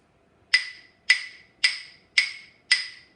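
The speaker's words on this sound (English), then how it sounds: "So these are two sticks, are called claves, and you hit them together to make a noise." Claves, a pair of wooden sticks struck together, give five sharp, bright clicks at an even, unhurried pulse, each with a quick decay, close and isolated in a quiet room.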